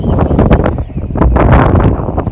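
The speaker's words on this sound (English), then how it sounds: "it is windy as heck, as you can hear" Strong gusts of wind buffet the microphone outdoors during a car wash, a loud continuous rumbling roar with surging bursts and no talking.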